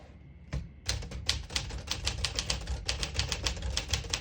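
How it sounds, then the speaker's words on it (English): Brisk clacking of a 1958 Smith-Corona Silent-Super portable manual typewriter, keys striking in a quick uneven rhythm with a sharp single clack at the start, close and clear. "Beautiful typing machine."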